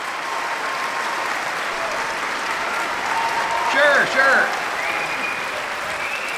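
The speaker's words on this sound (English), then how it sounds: "Give yourselves a round of applause." Studio audience applause at a satirical political comedy show, a steady wash of clapping throughout with a brief voice and cheer rising midway over it.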